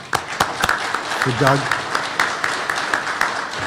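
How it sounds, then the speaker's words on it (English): Audience applause at the PMAR 2024 conference day two: a steady wash of clapping with sharp claps scattered through it, while a voice speaks briefly over the top. "Join me in a little applause for"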